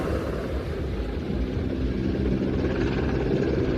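A Merlin helicopter hovers at an air show, its rotor producing a steady, dense, loud roar with rumbling downdraft noise and no distinct pauses, no voices heard.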